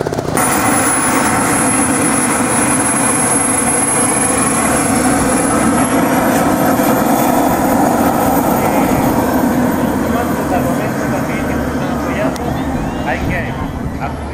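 Aircraft engines roar steadily and loud at an air show, with a rising high whine near the midpoint as a plane runs up for takeoff, a constant broad rumble throughout.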